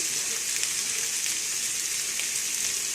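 Potatoes sautéing in a pan in a tiny home kitchen give a steady, even hiss with a soft crackle throughout, loud and close, with no voices over it.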